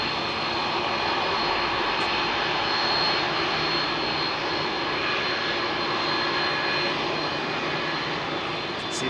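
A General Electric CF6 jet engine on an airliner at Heathrow roars steadily and loudly, a dense broadband rumble with a faint high whine, holding a continuous level throughout with no voices.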